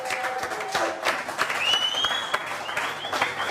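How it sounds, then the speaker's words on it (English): Outdoor audience applause at a sea-fishing event, a lively patter of claps with a few thin whistles riding over it, steady and fairly close for the whole stretch. "Everyone give him a round of applause."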